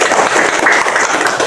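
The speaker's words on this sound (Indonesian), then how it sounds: "Oke, tepuk tangan." Applause in a classroom after a lesson's opening greeting, a steady, dense clatter of students' clapping at moderate loudness throughout, with no talk over it.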